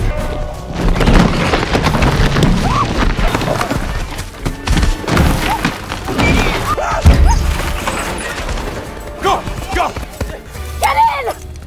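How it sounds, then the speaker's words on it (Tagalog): Loud, continuous booming and crashing from volcanic eruption explosions in a Jurassic World film scene, with stampeding animals' hooves and cries mixed in, dense and chaotic throughout. "Palakas ng palakas ang pagsabog ng bulkan kaya kailangan nilang umalis agad."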